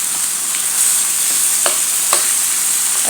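Cooked tomatoes and eggplant being mashed in a hot pan, heard as a constant loud sizzle with a few soft scraping and pressing strokes from a utensil, and no voices.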